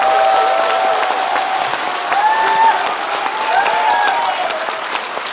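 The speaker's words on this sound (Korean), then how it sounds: "박수 한번 쳐주시죠." Audience at a political talk concert in Gwangju breaks into sustained applause, dense and steady throughout, with a faint tonal sound running underneath.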